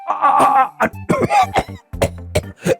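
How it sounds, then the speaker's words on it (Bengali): An animated king coughs in a series of short, harsh bursts, several close together and loud, with a raspy, throaty quality in a cartoon story scene. "মহারাজ আপনার কাশি হয়েছে।"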